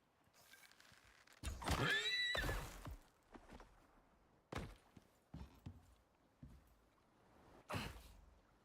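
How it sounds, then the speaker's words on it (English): A horse whinnies once in the video game Icarus, followed by scattered snorts and soft thumps against a quiet background. "And a horse right there."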